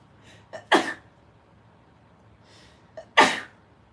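Two distinct sneezes about two and a half seconds apart, each with a short sharp intake before the burst, fairly close and alone against a quiet room.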